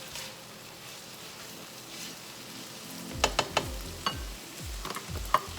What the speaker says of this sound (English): And then we can put in the black beans.